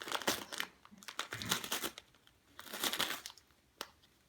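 Wrapping paper being crumpled and torn at a Christmas gift opening, a series of close, crinkly rustling bursts in irregular clusters, fairly quiet with no talk over them.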